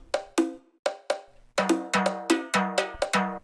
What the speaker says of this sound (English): So the first one is just going to be these bongos.